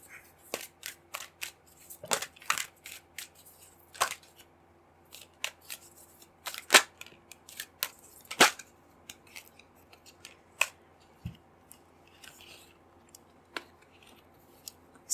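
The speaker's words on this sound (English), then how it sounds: "Pull out some cards." Tarot cards being pulled from a deck, a series of sharp, irregular snaps and flicks, some loud and close, scattered across a quiet background with long pauses between them.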